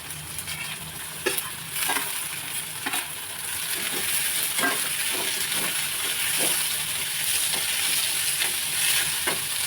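Onion and tomato fry in a pan with a constant close sizzle and hiss, broken by scraping, clattering stirring strokes that grow louder midway.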